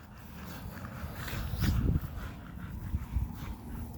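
Dogs whimpering and giving a short muffled bark burst in the middle, fairly faint and a little distant, over a low background rumble.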